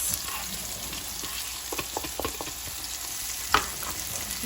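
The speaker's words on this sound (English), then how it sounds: "I'm gonna put some olive oil in the pot. And it's quite a bit, but that's okay. I'm gonna add my onions." Onions frying in a generous pour of olive oil in a soup pot give a steady, soft sizzle with scattered crackles and a few louder pops, heard close with no talking.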